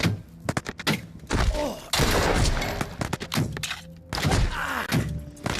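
Dense gunfire and bullet impacts in The Walking Dead: Saints & Sinners VR game, loud rapid shots and heavy thuds in close bursts, with a voice talking over parts of it.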